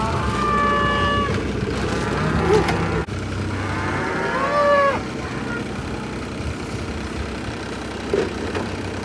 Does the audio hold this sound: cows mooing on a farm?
yes